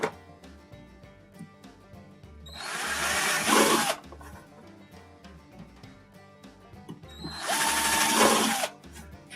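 A power drill bores through a plastic bucket in two bursts of a few seconds each, separated by quiet handling noises and soft clicks.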